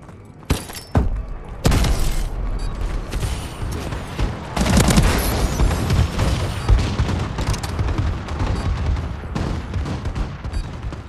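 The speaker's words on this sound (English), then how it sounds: "Enemy bombing run overhead." Explosions from an enemy bombing run in Call of Duty: Advanced Warfare, team deathmatch on the Terrace map: a sharp opening blast, then a dense, loud barrage of booms, gunfire and debris crashing for several seconds.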